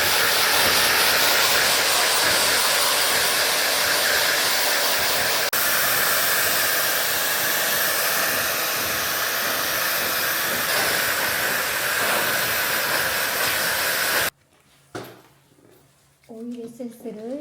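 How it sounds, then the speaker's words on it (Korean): A hair dryer blows steadily and loudly at close range for about fourteen seconds while drying freshly shampooed hair treated with oil essence in a salon, then cuts off, leaving a quiet room with a brief voice. "드라이로 건조하고 마무리를 하겠습니다."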